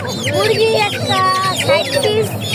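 Chickens cluck and squawk repeatedly at a busy village poultry market selling local ducks and chickens, close by, with people talking over the birds throughout.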